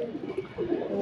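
Pigeons coo on the rooftops, a short soft burble of low cooing that sits under a murmur of voices.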